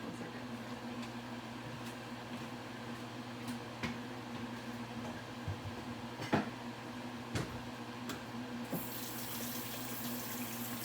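Water runs steadily from a kitchen tap as a jar of pickled beets is topped up, a faint continuous wash with a few soft clinks and knocks throughout.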